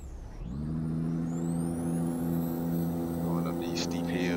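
Truck engine in Euro Truck Simulator 2 hauling about 24 tons of coal and gravel up steep hills, a steady loud drone whose pitch shifts after a brief gap as it changes gear, with a faint whine above.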